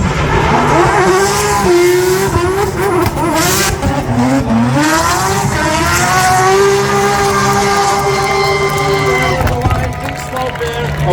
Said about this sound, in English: Flying through the track with his beautiful Mercedes.